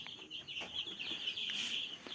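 Country chicks clucking and cheeping in a poultry shed, a busy continuous chorus of thin high calls from several birds, fairly close and moderately loud.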